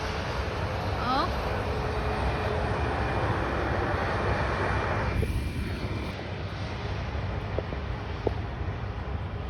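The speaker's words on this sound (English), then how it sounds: "Bit of a hard landing there, mate. That is a Delta 717, like some of the last ones." A Delta Boeing 717 airliner landing at John Glenn International Airport, heard from a distance as a steady broad jet roar that holds throughout, with a couple of faint clicks near the end.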